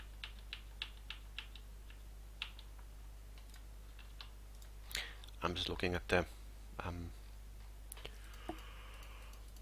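Sparse, quiet clicks from a computer keyboard tap out at irregular intervals, a short burst of keystrokes coming mid-way while someone talks over low electrical hum.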